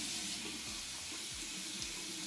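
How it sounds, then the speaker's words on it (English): Hot tap water runs steadily into a sink as a sponge is rinsed, a continuous close hiss and splash with faint gurgling pulses underneath. "Rinse clean with hot water."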